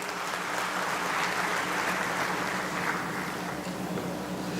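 Dense, sustained applause from a large audience at a cooperative conference, a steady wash of clapping filling the hall for several seconds without pause.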